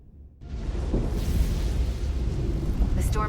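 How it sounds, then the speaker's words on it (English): A storm in the game Star Trek Resurgence sets in after a brief quiet moment, becoming a loud, steady, low roaring rumble that stays dense and continuous throughout. "The storm is getting worse."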